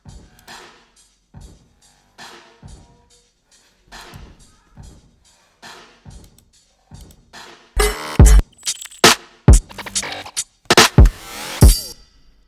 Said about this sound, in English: It's a free reverb by Elephant DSP,